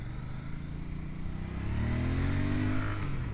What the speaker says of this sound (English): Yeah, it's got a nice pickup indeed.